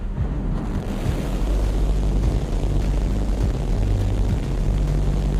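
SpaceX Starship rocket engines igniting at liftoff on the twelfth flight test, a heavy, steady low rumbling roar that fills the whole stretch, broad and continuous with no voices.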